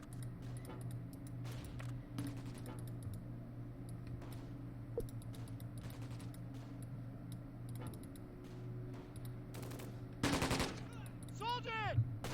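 Machine gun fire in the Close Combat Gateway to Caen war game, sharp repeated bursts over a low steady hum with keyboard clicks, fairly faint throughout, plus a louder burst near the end.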